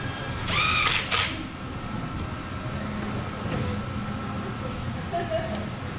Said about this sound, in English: So if you just heard that, the front cover bolts get torqued to 18 foot-pounds.